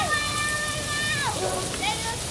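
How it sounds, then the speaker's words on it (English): Freezing rain and sleet fall outdoors in a steady, dense hiss that fills the whole stretch, with a faint voice-like tone drifting over it. "Yeah, it's freezing rain or sleet."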